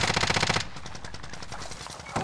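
Rapid automatic gunfire in the Warzone Mini Royale video game, a loud dense burst of shots up front, then a longer run of quicker, lighter shots, with another loud hit at the end.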